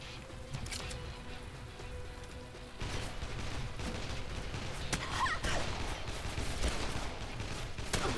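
Rapid bursts of gunfire from the zombie survival game Dead Island on PC, crackling in dense volleys over a steady noisy game backdrop, with a sharper cluster of shots near the end.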